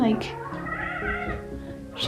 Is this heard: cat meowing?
yes